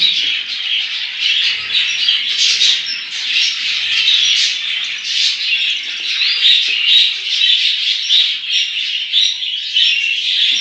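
Budgerigars in a home breeding box, parents feeding their growing chicks, with a dense, continuous chatter of high chirps and squeaky begging calls that keeps up steadily throughout at close range.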